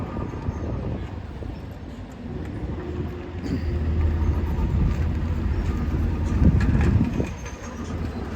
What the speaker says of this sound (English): all that tractor noise you hear back there